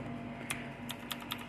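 Mechanical computer keyboard with cyan lighting, four or five sharp, separate key presses clicking close up over a quiet hum.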